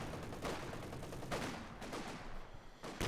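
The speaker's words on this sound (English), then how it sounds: "Section is the machine gun on the west trying to get the point here." Machine gun fire on a World War II battlefield in the strategy game Company of Heroes 2, heard as a dense, continuous crackle of distant shots with small swells, fairly quiet and with no voices.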